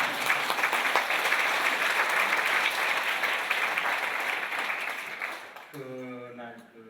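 A church congregation at an evening New Year revival service breaks into sustained, full-room applause that holds steady for several seconds before fading as a voice begins to speak.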